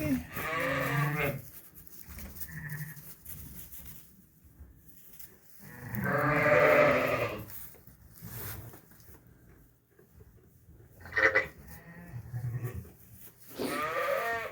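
Lambs on a farm bleat in several short, loud calls close by, spaced out with quiet gaps between them.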